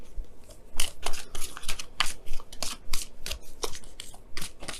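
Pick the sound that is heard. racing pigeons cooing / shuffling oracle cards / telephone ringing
shuffling oracle cards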